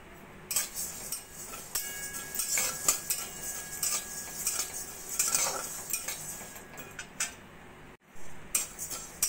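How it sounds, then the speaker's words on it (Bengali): Cumin and coriander seeds dry-roast in a hot wok while a metal spoon stirs them, making frequent scraping clinks and light rattles against the pan at a moderate, uneven pace, with no speech. "জিরে আর ধনেটাকে হালকা একটু ভেজে নেব।"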